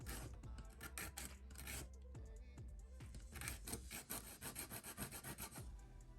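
An emery board rubs against an amaryllis bulb in quick, close, quiet strokes of dry scratchy rasping, each stroke repeating in a steady back-and-forth rhythm.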